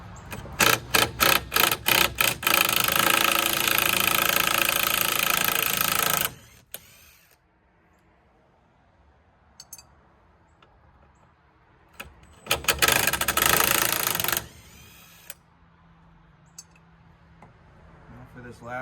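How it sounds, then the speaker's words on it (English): An impact wrench on a very low setting removes bolts from a Shelby Dodge Daytona. There is a loud rapid hammering burst, then a steady run of several seconds, quieter shop noise, and a second sustained burst. "this impact on a very low setting"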